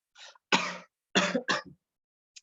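Several short, harsh coughs in quick bursts, close to the microphone, with pauses between them and no talking.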